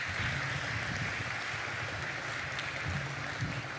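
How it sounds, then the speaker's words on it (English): Audience applause after a sports leaders' panel event in Cleveland, a steady wash of clapping throughout, fairly faint and distant with no talking over it. "Round of applause for all of you."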